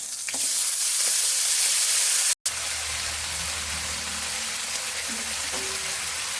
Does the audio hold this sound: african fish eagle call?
no